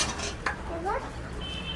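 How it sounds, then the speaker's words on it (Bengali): Duck meat tipped into a clay pot, with a few scraping clinks of utensil against the pot and a soft slide of pieces, close and brief, over a quiet kitchen background. "এবার মাংসটা ঢেলে দিচ্ছি।"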